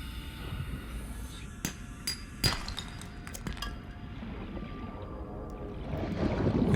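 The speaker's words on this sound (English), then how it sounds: "It's this stone textures here and glassy sounds. Also nice with the reverb." Stone-textured and glassy Foley effects for underwater game audio, heard as scattered sharp clinks and knocks with a reverb tail over a low rumbling bed, faint to moderate, swelling into a rush at the end.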